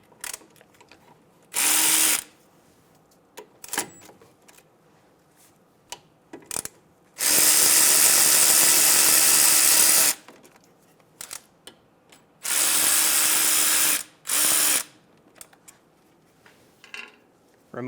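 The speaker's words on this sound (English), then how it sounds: "Using a 14mm socket, remove the 2 caliper bolts." A power ratchet with a 14mm socket spins out the two front brake caliper bolts on a 2010-2014 Subaru Outback in loud, evenly spaced bursts, short and long, with quiet clicks and handling noises between them.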